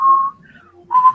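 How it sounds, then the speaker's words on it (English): A person whistles two clear sustained notes, a long steady tone followed after a short pause by another, loud and close with no talking. "The only way he can talk to us now is by whistling."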